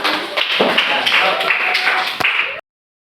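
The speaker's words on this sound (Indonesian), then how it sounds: "Ya, tepuk tangan anak-anak." Schoolchildren clapping in a classroom, a burst of many hands applauding with scattered sharp slaps and some voices, lasting about two and a half seconds before cutting off abruptly.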